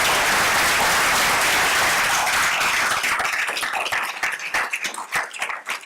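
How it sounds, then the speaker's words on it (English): Loud, dense applause from an audience at a school board meeting honoring a student robotics team, steady at first and then thinning into scattered individual claps toward the end. "let's give them a round of applause."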